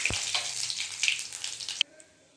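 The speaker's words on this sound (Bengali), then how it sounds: "এই যে সাদা জিরে, শুকনো লঙ্কা, তেজপাতা ফোড়ন দিয়ে দিলাম।" Cumin seeds, dried red chillies and bay leaf hit hot oil for a Bengali banana-flower ghonto tempering, giving a close, bright crackling sizzle that runs steadily and then cuts off abruptly near the end.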